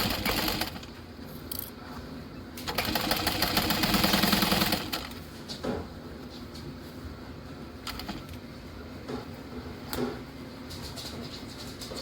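Sewing machine stitching a fabric handbag runs in short bursts, with a longer steady run near the middle, between pauses and small handling clicks, close and moderately loud.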